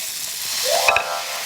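Minced garlic and ginger frying in oil in a pan over medium heat, a steady close sizzling hiss with a couple of brief clinks near the end, no talking.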